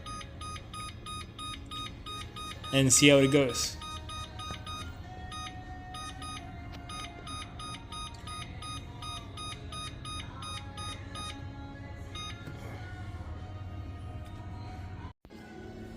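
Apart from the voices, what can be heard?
kitchen timer being set and beeping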